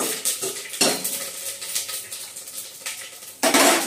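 Shahjeera and whole spices being stirred and fried in a metal pan, with repeated clanking scrapes of a spoon against the pan over a soft sizzle and a sharper burst of clatter at the end.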